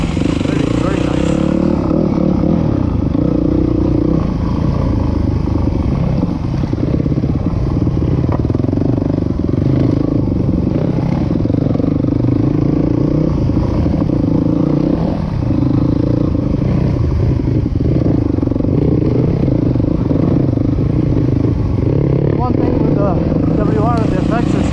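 Yamaha WR250F dirt bike engine downshifting and pulling up a hill climb on a technical woods trail, a loud continuous close-up motor drone with shifting revs and trail clatter throughout.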